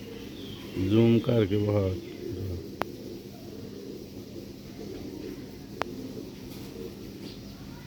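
Domestic pigeons of a colored fancy breed coo in a short close burst of several throaty, wavering notes, then fall quiet to a hushed indoor background with a couple of sharp clicks.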